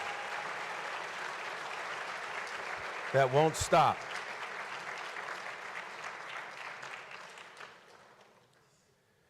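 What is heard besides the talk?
audience applause at ceremony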